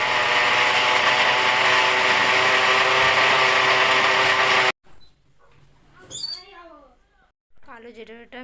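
A mixer grinder loudly whirring as it grinds black cumin into a bottle gourd leaf paste with garlic and green chillies, a steady motor drone for about five seconds, then it stops and someone speaks over quiet kitchen sounds.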